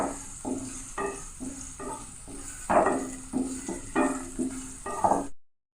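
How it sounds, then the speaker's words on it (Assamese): Sliced onions frying in a hot pan for a home-style fish and red gourd dish, with a spoon scraping and stirring in repeated strokes over a constant sizzle, close and fairly loud, without speech. "ৰঙা হোৱালৈকে পিঁয়াজখিনি ভাজি ল'ম।"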